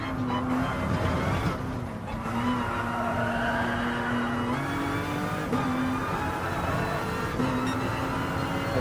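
A GR1 race car engine in Gran Turismo Sport droning loudly and steadily at high revs, its pitch stepping with gear shifts, with faint tire noise beneath.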